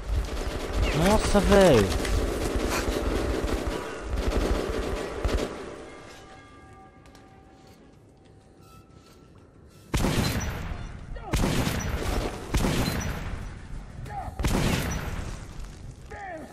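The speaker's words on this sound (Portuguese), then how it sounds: "estão atirando em mim" Enemy gunfire in the Metro 2033 Redux video game: loud rapid bursts and booming shots, easing into a quiet lull and then returning as sharp, dense volleys, with someone talking excitedly between them.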